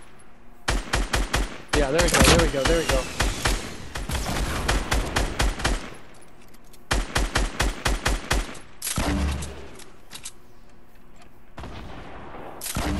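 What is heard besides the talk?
heavy gunfire from the video game Fortnite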